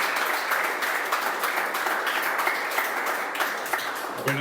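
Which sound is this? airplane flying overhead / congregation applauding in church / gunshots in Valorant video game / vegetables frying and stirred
congregation applauding in church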